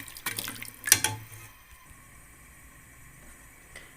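Stock splashes and pours into a pot of Peshawari pulao for about a second, followed by near silence with faint background noise.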